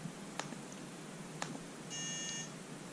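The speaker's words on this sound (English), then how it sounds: "So it makes a little beep." A Makeblock mBlock Ranger 3-in-1 robot gives a short electronic beep tone lasting about half a second, clean and alone, with a couple of faint clicks before it.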